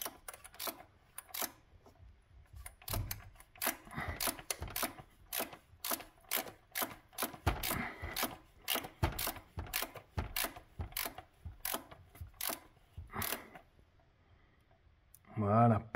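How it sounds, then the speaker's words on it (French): A ratchet wrench clicks in quick bursts of sharp, close ratcheting on the oil drain plug of an Opel Astra H Twintop during a home oil change, with short pauses between runs. "on met la clé à cliquer. Et surtout, on change le sens sur la clé à cliquer."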